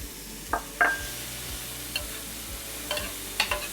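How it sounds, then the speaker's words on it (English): Minced onion frying with lean ground beef in a pan, a low steady sizzle broken by a few scattered scrapes and taps of a utensil stirring against the pan. "the first thing I'm going to do is add in my onion, my minced onion"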